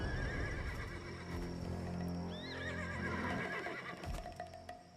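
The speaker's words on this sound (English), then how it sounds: "The horses won't budge thanks to that scary lot." Horses in the Black Desert game neigh and whinny, a rising and falling call heard over a continuous low rumbling background and faint hoof clatter, fairly close and loud throughout.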